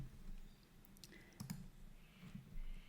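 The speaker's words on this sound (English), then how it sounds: "So just clicking on the Diagram tab" Mouse clicks on a computer, a few quiet, sharp clicks spaced irregularly over a low steady background hum.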